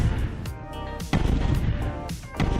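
A tank firing from range against bots in the building game Trailmakers, with booming shots landing every second or so over steady rumbling game noise, fairly loud and with no talking.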